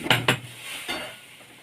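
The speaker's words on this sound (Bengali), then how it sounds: "খুব ভালো করে নেড়ে নিচ্ছি।" Food stirred in a pan with a utensil, giving two quick metallic clinks against the pan close by, then a softer scrape and a low cooking hiss.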